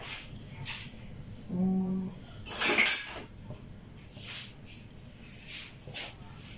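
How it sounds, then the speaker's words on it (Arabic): A hot homemade pizza being cut, with a short burst of scraping and clattering of a cutter or knife against the pan, set among soft kitchen clatter and quiet background voices. "هنقطع دلوقتي بس هي سخنة مولعة، بس انا هقطعها لك."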